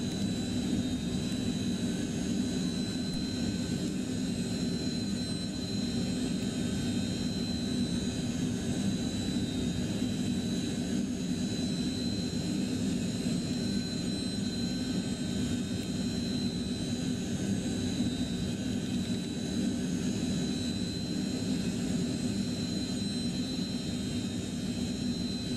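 Lockheed JetStar jet engines running steadily in a flight simulator game, a continuous loud roar with a whine and tonal hum that holds level throughout, with no talking.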